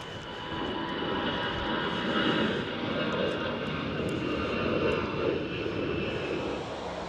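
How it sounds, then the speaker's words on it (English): Aeroplane engine noise near an airfield fence at an aviation museum, a steady, moderately distant drone of a plane preparing to take off, holding at an even level with no voices. "we're walking over to get a closer look at the planes going off."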